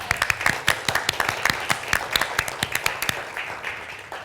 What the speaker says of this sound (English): Can we give a little applause?